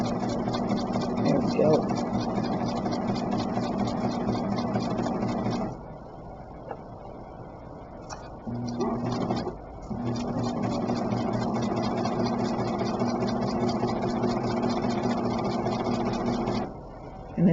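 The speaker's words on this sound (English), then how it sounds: "I got to get my foot on the right spot on the pedal to sew at the speed I want to sew" A foot-pedal-controlled sewing machine stitches a homemade fitted face mask in a steady mechanical whir, pausing twice and restarting, while a person talks over it.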